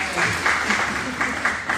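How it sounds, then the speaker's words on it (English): A short round of applause for a guest speaker in a university classroom on happiness at work, a few seconds of clapping with voices talking over it. "Round of applause for her."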